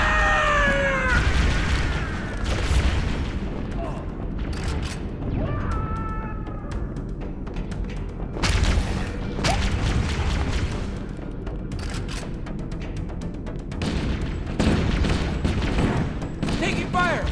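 Repeated gunfire strikes a squad in Halo: Combat Evolved, sharp bursts and impacts over a busy battle din, with shouted voices in the mix.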